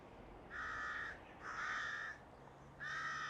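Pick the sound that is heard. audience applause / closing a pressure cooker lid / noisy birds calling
noisy birds calling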